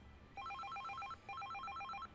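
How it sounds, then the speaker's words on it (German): An electronic telephone ringing in a German detective adventure game, two quick warbling bursts of rapid trilling tones separated by a short gap, clear and alone. "Telefon."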